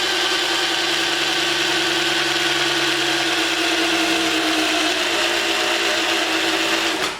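A 1981 Pontiac Trans Am engine has its oil pump primed with a drill, making a steady, loud, continuous whirring drone that runs unbroken for several seconds and then stops abruptly.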